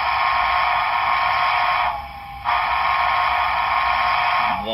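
A model train whistle blares as a loud, steady electronic tone, broken by a short drop in level midway before resuming, with a faint hiss underneath.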